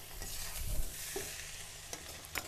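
Minced keema frying in a pan for keema puri, a soft, fairly quiet sizzle with occasional stirring scrapes and a low background hum, no talking.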